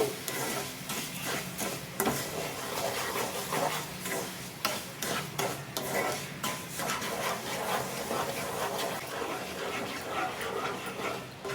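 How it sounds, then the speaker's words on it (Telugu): A spoon stirs sugar and water in a pan until the sugar melts, giving repeated scraping and rubbing strokes at close range, moderately quiet and alone. "ఇలా పోసుకొని పంచదార కరిగే వరకు ఇలా తిప్పుకుంటూ ఉండాలి."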